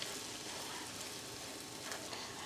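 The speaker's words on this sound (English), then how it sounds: "Now just give them a good mix in the hot butter here." Chicken pieces sizzle and crackle steadily while being stirred in hot butter for a keto cream sauce, a continuous close frying hiss with no voices.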